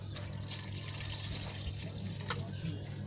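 Water poured into a pot of Nigerian white soup, a soft, faint trickle and splash running for a few seconds with a low steady background hum.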